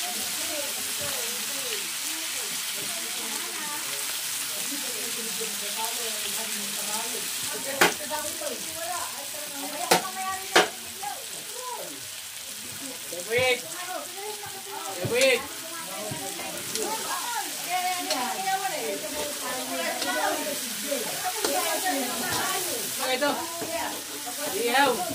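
Vegetables stir-fry with a steady sizzle filling the pan throughout, with clinks and scrapes of stirring and a voice talking intermittently over it.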